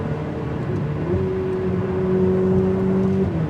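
Ferrari 488 Pista supercar in race mode, its engine droning and rising steadily as it accelerates, with a sustained tone heard from inside the car and no talking.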